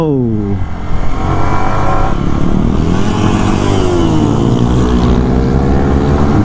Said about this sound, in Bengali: JSX-R এর সাউন্ড, ও এই দুইটা বাইকের সাউন্ড